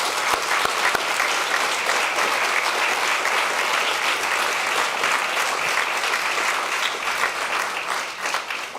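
An audience at a public information meeting breaks into sustained, dense applause that holds steady and loud throughout, fading only slightly at the very end.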